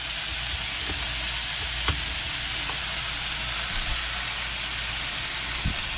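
Sausage, perogies and potato wedges seasoned with roasted garlic and pepper sizzle steadily on a hot griddle, a dense, even hiss broken by a few brief scraping clicks of a spatula.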